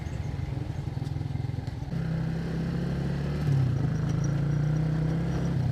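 A motorcycle engine runs close by on a street ride: a rough idle first, then a smoother, louder drone that steps up in pitch as the revs rise.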